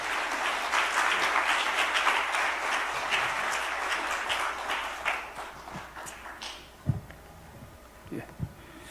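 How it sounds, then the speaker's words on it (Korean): A church congregation at a Sunday evening service claps for a pastor in steady, dense applause that fills the room, then thins out into scattered claps near the end. "우리 목사님을 보내주신 하나님께 영광의 박수 올려드리겠습니다."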